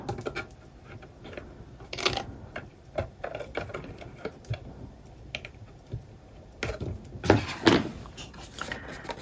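Paper being trimmed with a cutter for an explosion box mini album, scattered short clicks and scraping strokes at close range, with a couple of louder rasping cuts toward the end, no talking.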